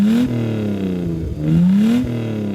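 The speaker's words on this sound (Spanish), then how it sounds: "escuchar el auto acelerando, el buen sonido que tenía el auto" A 1980 Mercedes-Benz 280 SLC engine revs and accelerates, a smooth steady drone rising and falling in pitch across two pulls, close and moderately loud, with no talk.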